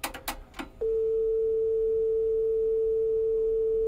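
A Yamaha KX-630 three-head cassette deck plays a test tone from a test tape: a steady pure sustained tone that starts after a few brief clicks and holds evenly at moderate level.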